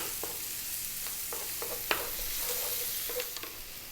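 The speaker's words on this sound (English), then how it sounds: "And then goes in our onion. Now, medium heat, let's cook these till they're nice kind of golden brown" Onions fry in a pan over medium heat, a steady soft sizzle underneath occasional light scrapes and taps of stirring, close and fairly quiet with no voices.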